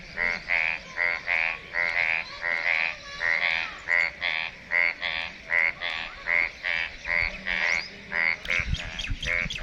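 Frogs croak in loud, rhythmic bursts after night rain, one call after another in a steady pulsing chorus, close by.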